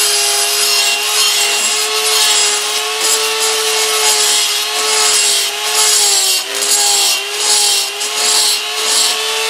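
A rotary tool bit grinds the port of a McCulloch Timber Bear chainsaw, giving a loud, close, continuous high whine that wavers slightly in pitch as pressure shifts.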